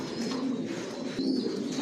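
Racing pigeons, including breeding pairs sitting on eggs, coo softly in their loft, with a few low, close, repeated coos over a quiet background.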